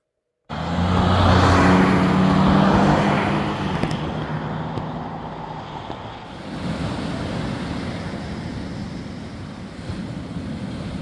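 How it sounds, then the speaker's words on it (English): Road traffic roars as tires hiss on pavement and engines hum, starting abruptly at full strength, loudest early with low engine drones, then settling into a steady broadband wash. "the noise of tires on the road and engines roaring"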